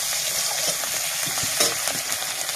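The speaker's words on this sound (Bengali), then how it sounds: "এখন আমি দেবো একটু রসুন বাটা। রসুনটা একটু নাড়ি চাড়ে, তারপরে একটু দিয়ে দেবো আদা বাটা।" Garlic paste is fried with fried onion in a pan and stirred, giving a close, busy sizzle broken by repeated scraping strokes of the spoon, with no talking.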